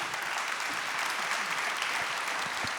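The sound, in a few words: applause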